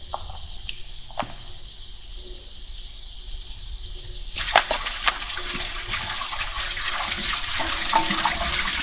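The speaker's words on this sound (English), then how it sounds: "So I've got some water in here, and you can kind of hear it." Quiet trickle at first, then water starts gushing and splashing steadily from a small pump-driven pot fountain, a continuous bright flowing sound that grows slightly louder.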